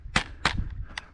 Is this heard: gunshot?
yes